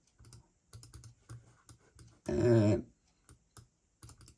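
Mouse or key clicking at a computer, sharp small clicks in short bursts, near and fairly quiet, with a brief louder noise burst in the middle and no talk.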